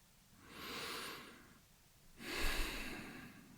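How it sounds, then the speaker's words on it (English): A deep breath drawn in slowly and let back out, two long airy swells close to the mic, calm and unhurried with no talking. "what I got to do is just take a nice deep breath"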